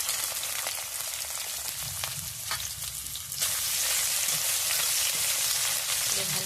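Chopped onion sizzling in oil in a pan, a crackling fry with light stirring that turns suddenly louder and more intense partway through.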